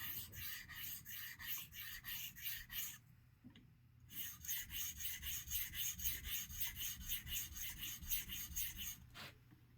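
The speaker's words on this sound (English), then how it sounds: "rolling strokes, a rolling lap kind of a stroke" A chipped wedge straight razor is honed on a stone with rolling, half-X lapping strokes. The rapid, regular rasping strokes sound close and quiet, with a short pause partway through and no talking.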